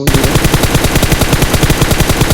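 Rapid automatic gunfire from PUBG, loud and close, a steady unbroken burst of evenly spaced shots running for a couple of seconds with no talk over it.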